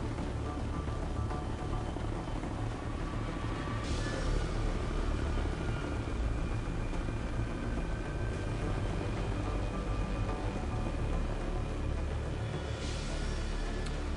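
A helicopter in Ghost Recon: Future Soldier drones on with a steady, dense rotor and engine rumble, constant and moderately loud with no talk.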